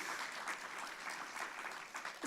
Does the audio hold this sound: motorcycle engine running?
no